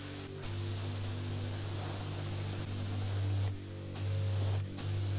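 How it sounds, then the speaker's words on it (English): Water spray rinsing sand and dirt off a Brixton Felsberg 125 motorcycle, a steady hissing spray under a low hum, briefly cutting out and resuming a few times. "Luckily the engine is not too hot right now, just spraying it."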